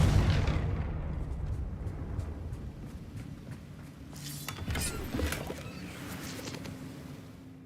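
A Confringo spell explosion in a wizard video game erupts as a heavy, booming blast with crackling bursts after a rumbling lead-in, loud and close, with no talking.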